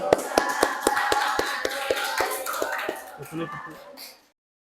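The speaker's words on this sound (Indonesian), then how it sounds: "Kasih tepuk tangan." Students in a classroom clap in a quick run of sharp, distinct claps that thin out and stop, close by, with a voice and a throat clear mixed in.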